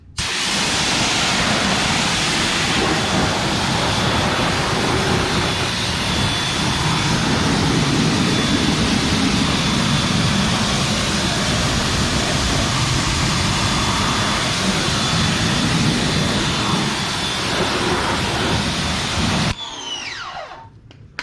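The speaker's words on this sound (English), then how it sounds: "Let's go ahead and rinse it." Continuous loud hiss and roar of a high-pressure water spray rinsing a Honda CR-V engine bay, steady and close for about twenty seconds before cutting off abruptly.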